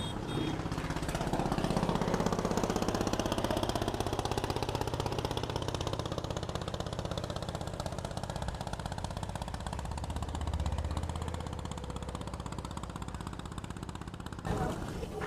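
A motor boat engine on a wetland lake in Kaliganj, Gazipur, Bangladesh chugs with a rapid, pulsing drone, fairly close and steady for the whole stretch, swelling slightly early on.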